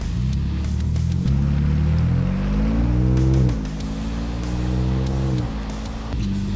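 A 2021 Ford Bronco with a Magnaflow exhaust pulling off slowly at light throttle, a loud, close, deep burbling exhaust note that rises and falls gently with gear changes.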